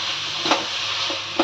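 Coconut barfi mixture stirred in a pan over heat for a fasting-day sweet, giving a soft, steady scraping sizzle with a few brief louder scrapes, close and alone.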